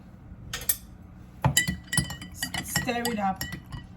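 A spoon clinks against a glass while stirring a homemade electrolyte drink mixed with black seed, with several sharp clinks and brief scraping taps close by, separated by short pauses.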